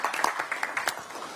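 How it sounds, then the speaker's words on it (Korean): Audience clapping for lawmaker Park Joo-min at a party campaign committee event: a moderate round of applause with distinct individual claps popping out, sustained throughout and softening slightly toward the end. "우리 박주민 의원께 큰 박수를 부탁드리겠습니다"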